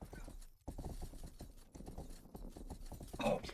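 Horse hooves clip-clop steadily in a video game while the horse is ridden and turns slightly, a close, rhythmic patter of hoof hits under a faint background bed.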